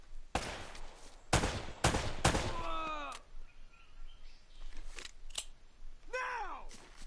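Gunfire in the action game Uncharted: Drake's Fortune: a few sharp, loud gunshot cracks in quick succession followed by ringing ricochet whines, with scattered quieter shots and whizzes after.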